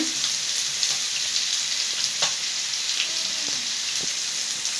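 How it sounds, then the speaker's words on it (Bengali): Taki fish frying in oil in a pan, a loud, constant sizzle with crackling pops scattered through it, close and without speech. "এখানে মাছগুলো ভাজা হচ্ছে"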